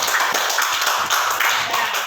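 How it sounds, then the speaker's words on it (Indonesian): Classroom applause for a student group, a steady patter of many hands clapping at close range, continuing without break and with no talk over it. "Beri aplaus kepada kelompok 1"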